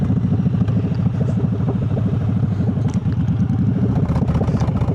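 Close, steady throb of a Triumph Bobber's engine and exhaust while riding, a loud pulsing rumble that carries on unbroken for a few seconds with no talking over it.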